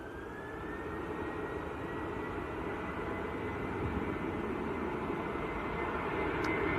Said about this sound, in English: oh, it's a Challenger 350, just going to Dublin.